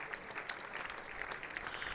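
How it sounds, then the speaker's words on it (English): Crowd applause at a one-day cup cricket semi-final between Warwickshire and Hampshire, a faint, distant wash of steady clapping throughout. "Liam Dawson getting a huge round of applause now"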